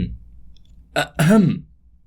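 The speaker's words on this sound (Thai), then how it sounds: "เสียงกระแอมดังขัดจังหวะมาจากด้านหลัง" A single short throat clearing, close and fairly loud, with a brief catch and then a rough, rising-falling vocal rasp lasting about half a second.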